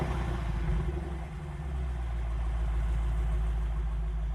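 Lexus RC-F with a naturally aspirated 5.0-litre V8 and aftermarket exhaust idling after a cold start, a steady low rumble with a high idle, alone and close.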